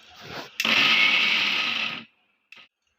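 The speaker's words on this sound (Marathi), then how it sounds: "आता आपण हे मिक्सरला थोडं जाडसर वाटून घेणार आहोत" An electric mixer grinder runs for about one and a half seconds, coarsely grinding Schezwan chutney ingredients, then stops abruptly and gives a brief second pulse; close and loud with no talking.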